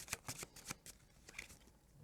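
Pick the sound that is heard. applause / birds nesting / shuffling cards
shuffling cards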